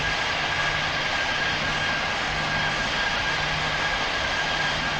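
Steady, loud airplane engine drone in a flight video game as the aircraft comes in to land, a continuous broadband roar with a faint steady hum and no talking.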